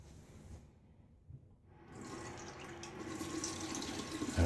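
A bathroom tap runs while a razor is rinsed under it, a steady rushing stream that grows louder and fuller after a brief quiet moment, close by with no talking.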